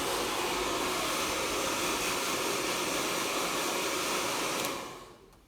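Handheld hair dryer blowing on hair, a loud, steady rushing whoosh of air that holds evenly for several seconds before the motor cuts off and spins down.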